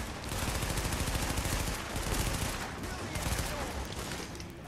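Sustained, dense gunfire in The Division video game, loud continuous volleys filling the whole stretch with slight swells, and a voice talking underneath.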